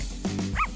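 A small dog gives a short yip or bark, a single brief bright call close by in a quiet setting.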